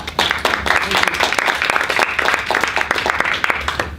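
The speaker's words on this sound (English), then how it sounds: "let's give a round of applause to Eric." An audience at a presentation claps steadily, a dense patter of many hands applauding for a few seconds.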